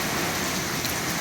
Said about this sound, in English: we're getting a little bit of rain.